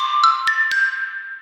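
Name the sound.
xylophone playing a jingle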